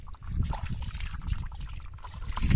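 Water trickles and gurgles outdoors with a soft, bubbling low burble that keeps up steadily and grows slightly louder toward the end; no voices are heard.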